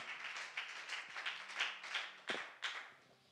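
A church congregation claps along in a fairly regular rhythmic beat, faint and somewhat distant, each clap standing out as a soft burst over a quiet background.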